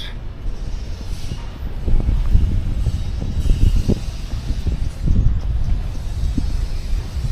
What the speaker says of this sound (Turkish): hafiften bir rüzgar esiyor